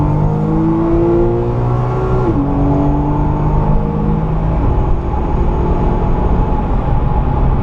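A race car on the Le Mans circuit accelerates hard at full throttle, its engine note climbing steadily through the gears with a shift dip midway, loud and close, with no talking over it.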